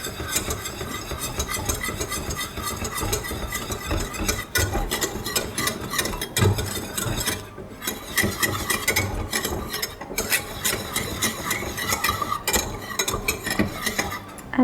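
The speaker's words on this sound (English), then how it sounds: "and then now you whisk it." Flour is whisked steadily into a white sauce for tomato pasta. A continuous scraping, stirring clatter against the pot runs throughout at close range, with a faint sizzle underneath.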